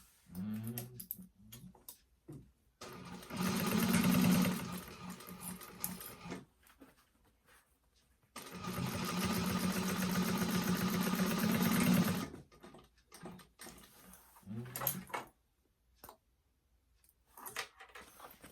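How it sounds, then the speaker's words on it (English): A sewing machine stitching bag seams at a half-inch allowance, two long steady runs of fast mechanical whirring with short pauses and light handling noises between them, close and fairly loud, no talk. "we're going to stitch those with a 1/2 inch seam allowance"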